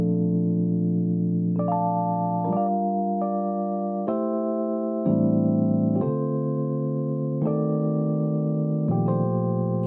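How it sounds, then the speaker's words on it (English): A Waves Electric 88 electric piano plugin on a warm tone preset plays a slow sequence of sustained chords with soft, mellow attacks, clean and alone with no talk. "I'm just going to be using the warm tone under warm, and that sounds a bit like this."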